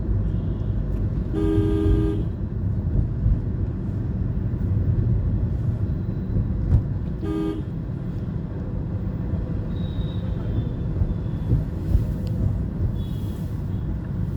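Car horns honk in city traffic around a residential area, with two short clear toots over a constant rumble of engines and passing vehicles, close and loud, and no talk.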